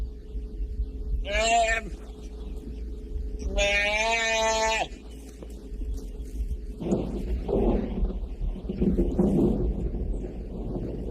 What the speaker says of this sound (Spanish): Por fin acuden las vacas a la llamada del becerro